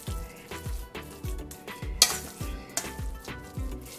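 Minced keema sizzles in a pan while a utensil stirs and scrapes it in a steady rhythm of repeated strokes, close and clear with no talk.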